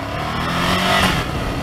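Ducati Monster 797 V-twin motorcycle engine sputtering unevenly at low revs, a steady close-up rumble over 1.7 seconds with a slight swell in the middle.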